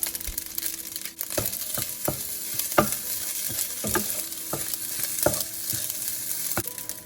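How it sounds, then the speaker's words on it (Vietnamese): Fried rice is tossed and stirred in a hot pan, with crisp scraping and clacking strokes at an irregular pace over a continuous soft sizzle, close and moderately quiet. "Mình cố gắng trộn cơm đều, thật khô để cho nó tơi ra."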